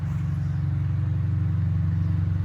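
A Lexus RC fitted with an aftermarket body kit drives along, its engine holding a steady, close, low rumble with a constant throbbing drone and no voices.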